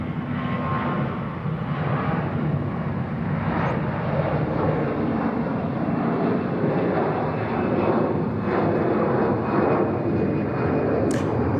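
Myanmar Airways International jet departing Bangkok Suvarnabhumi Airport for Mandalay, a steady loud engine roar that stays constant throughout, heard from a distance with no clear speech.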